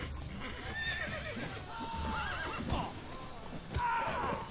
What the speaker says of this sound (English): The horses are in the way.